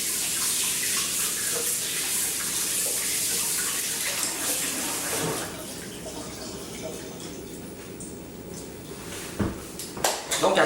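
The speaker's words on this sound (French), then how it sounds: "Je me lave les mains." Hands being washed under a running tap in a home kitchen while making focaccia dough; steady splashing water for about five seconds, then quieter with a few drips and clatters near the end.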